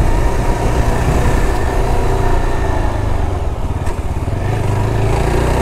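A Yezdi Adventure motorcycle being ridden, its engine a loud, continuous close-up rumble with steady throbbing and wind noise throughout.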